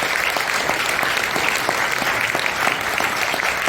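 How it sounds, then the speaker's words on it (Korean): An audience applauds in a large conference hall at a morning prayer service, a dense steady patter of many hands clapping throughout. "격려의 박수 한번 보내주시면 좋겠습니다."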